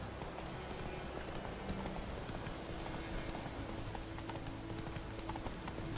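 Roach the horse gallops in The Witcher 3, a steady, rhythmic clip-clop of hooves under a constant hiss that sounds like rain, quiet and unbroken throughout.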